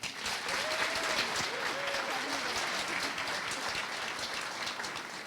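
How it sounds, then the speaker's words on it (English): A renewed round of applause at a high school senior awards night, a thick wash of clapping from a large audience with a few shouts and whoops over it, holding steady throughout. "One more round of applause"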